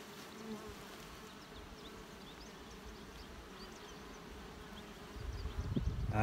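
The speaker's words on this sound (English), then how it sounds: "I'm just blowing the bees from the bottom bars" Honeybees buzzing around an opened hive as they are blown off the bottom bars of frames, a steady soft insect hum throughout, with a louder burst of blowing rising near the end.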